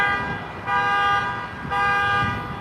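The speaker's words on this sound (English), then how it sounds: "There's a car alarm." A car alarm blaring on a busy street, a loud bright tonal wail in two sustained bursts with short dips between, over road noise and traffic rumble.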